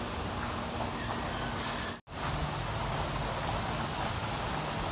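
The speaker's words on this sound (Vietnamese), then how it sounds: "giờ vẫn phun như mưa của chú anh chị ạ" A sprinkler sprays water like rain over orchids on a hot day, a dense, steady hiss of droplets close by that cuts out for an instant midway.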